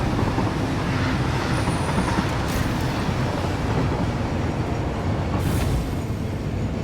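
Rolling rumble of a long freight train running on rails in the video game Satisfactory, a steady continuous roar with faint wheel squeal, no talk over it.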